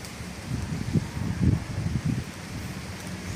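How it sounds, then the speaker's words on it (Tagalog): Strong gusting wind outdoors in Carcar City, Cebu, with no rain, roaring in low rumbling surges that swell and fade in several bursts across the clip. "Kusog ang hangin mga brother. Wa say ulan bro, hangin grabe kusog pod."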